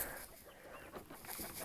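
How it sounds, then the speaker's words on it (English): Chickens at a homestead coop cluck and murmur softly at close range in the morning, a brief low chatter of fowl against faint background noise. "Good morning, chickens."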